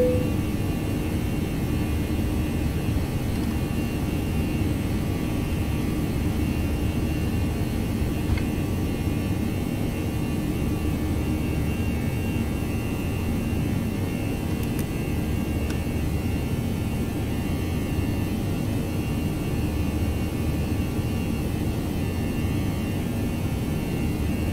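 Airbus A319 jet engines in the X-Plane 11 flight simulator during the climb after takeoff from San Francisco, a steady, continuous low roar and hum that stays loud and even throughout, with no talk.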